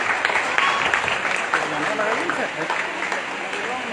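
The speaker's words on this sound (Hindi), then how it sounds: "तालियां बजती रही दोस्त" Crowd applause keeps going at a stage event, a steady wash of many clapping hands with a voice talking over it.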